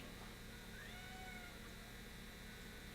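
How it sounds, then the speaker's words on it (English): A cat meows faintly once, a short rising and falling cry buried in steady loud background hiss and hum. "I bet that cat's hungry."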